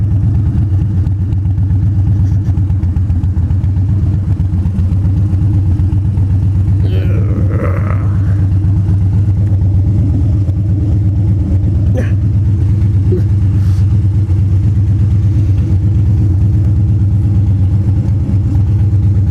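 Car engine laboring in too high a gear, a steady low droning rumble that stays loud and constant throughout, with a few faint brief sounds on top.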